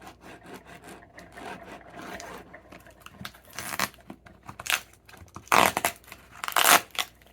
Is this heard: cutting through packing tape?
yes